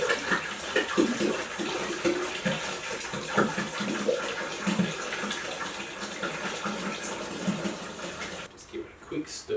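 Chilled water from a 12-litre plastic jerry can pours steadily into a homebrew vessel of Pacific Ale wort, a continuous splashing gush lasting several seconds before tapering off near the end.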